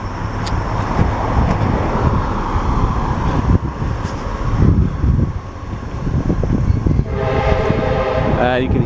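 A train passes in the distance with steady rolling rumble throughout, its horn sounding briefly near the end, recorded outdoors near Austin.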